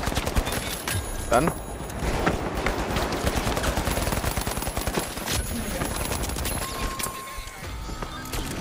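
Rapid automatic gunfire from a weak rifle in a video game shooter, sustained loud bursts rattling almost nonstop, with a player's voice speaking briefly over the shooting.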